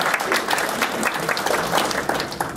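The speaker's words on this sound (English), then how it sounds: "we can give her a round of applause even though she's not here" Guests at a school transition ceremony give a round of applause during an awards presentation, a brisk, moderately loud clatter of many hands that continues steadily throughout.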